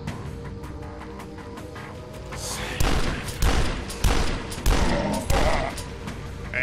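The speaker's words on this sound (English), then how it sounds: "I love shooting down cultists." Gunfire from weapons, including super shotguns, cutting down cultists in the video game Dusk, heard as a run of five loud, heavy blasts at roughly even intervals after a quieter opening stretch.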